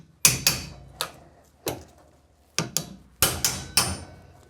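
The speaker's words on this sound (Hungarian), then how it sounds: "Bocs, egy kalapács." Hammer blows land on metal while a BMW ATC-35L xDrive transfer case is worked on with a bearing puller in a workshop: about eight sharp, close, loud strikes, mostly single with some quick pairs, each ringing briefly, with no talk.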